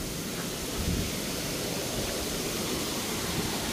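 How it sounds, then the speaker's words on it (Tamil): Rushing water pours down at a main waterfall in Sri Lanka, a dense, steady roar with a deep low rumble and no pauses, loud and continuous throughout with no voices. "நீர் எவ்வளோ ஓடுது பாருங்க. இங்கே தான் பிரதான நீர்வீழ்ச்சி."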